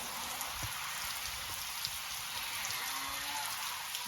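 Rain falls steadily on a cattle farm, a constant close hiss of drops on surfaces with faint low knocks and rustles underneath and no voices.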